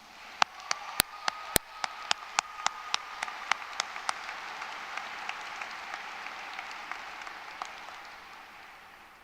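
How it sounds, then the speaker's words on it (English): Audience at a spring commencement ceremony applauding, a steady wash of many hands clapping in a large hall, with a few louder nearby claps standing out early, fading slowly toward the end. "Please give them a round of applause."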